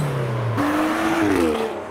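A green Zenki Nissan S14 pulls into a car meet, its engine note rising and sliding in pitch as it draws near and passes close by, loud against steady background noise.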